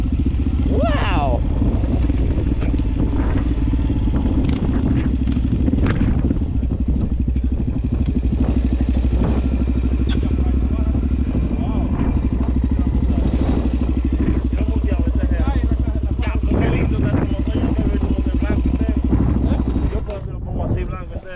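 A Suzuki DR-Z 400SM motorcycle engine runs steadily and loudly throughout, a dense low drone with clattering mechanical texture, while people talk excitedly over it.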